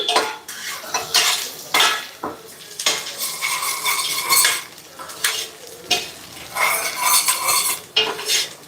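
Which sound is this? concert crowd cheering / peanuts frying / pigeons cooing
peanuts frying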